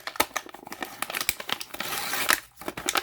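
Crinkling, tearing plastic packaging being peeled open from a cheap toy figure, close and fairly loud, with irregular crackles and rips throughout and a steadier rustle toward the end, no talking.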